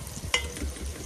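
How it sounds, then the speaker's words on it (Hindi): Onion and cumin fry in a pan for chicken pulao, giving a soft, steady sizzle with a brief utensil clink partway through. "पहले हम प्याज को फ्राई कर लें अच्छी तरह से"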